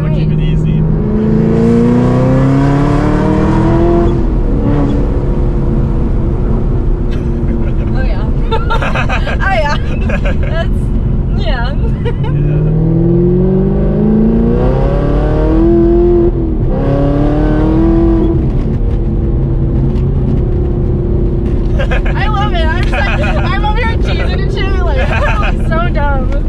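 A 1,000-horsepower Hennessey Exorcist accelerates hard through the gears into third on a bending road, its loud engine note climbing in repeated rising sweeps with shifts between them, while people talk over it inside the car.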